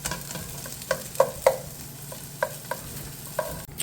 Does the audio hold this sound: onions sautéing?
yes